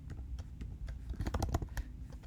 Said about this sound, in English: Oh, my fingers are on the wrong keys.